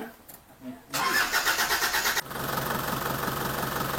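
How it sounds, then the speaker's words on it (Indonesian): An Isuzu Panther engine cranks and catches at about one second, roaring loudly for a moment before settling into a steady, rough idle that runs on to the end. "Kita start dulu, kita hidupkan."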